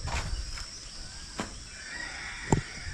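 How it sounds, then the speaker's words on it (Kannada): Chickens cluck and squawk in a few short bursts over a quiet farmyard background, with no talking. "ಕೆಳಗಡೆ ಕೋಳಿಗಳು ಓಡಾಡೋಕ್ಕಿಲ್ಲ ನೋಡಿ ಕೋಳಿಗಳು"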